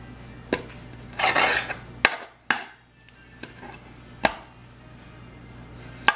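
A knife slices through a raw chicken tender on a cutting board, giving sharp clicks and board knocks with a short scraping cut, close and sparse with no talk.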